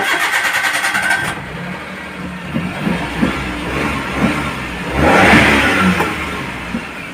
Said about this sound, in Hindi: तो चलिए मैं इंजन स्टार्ट कर लेता हूँ।